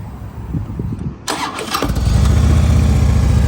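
A stock 2010 Harley-Davidson Electra Glide Ultra Classic with a 96 cubic inch engine cranks briefly, catches, and settles into a loud, steady, throbbing idle close by, with no voices.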